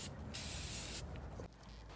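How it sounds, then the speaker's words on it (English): A steady hissing burst of dark aerosol spray paint onto the bottom of a baby bottle, lasting under a second, followed by quiet background room noise. "I'll take the spray paint"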